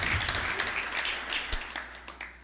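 A church congregation claps in praise during worship, a soft, distant patter of applause that fades toward the end, with no talk over it.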